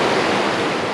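Bald River Falls near Tellico Plains, Tennessee, roars as a steady, dense rush of falling water, loud and close, with no voices over it.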